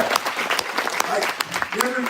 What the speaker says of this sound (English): we can clap, whatever you guys want to do